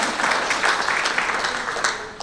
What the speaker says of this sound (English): Let's do a round of applause for Hannah.